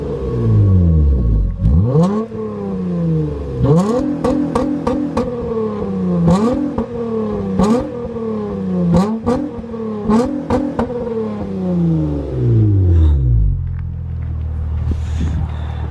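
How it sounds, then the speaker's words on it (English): The engine of a 2006 Acura TL revs again and again, each rising whine climbing sharply and then falling back to idle. The revs come close and loud in an uneven series over a steady running hum. "I was gonna rev the car, but that's a lot of work."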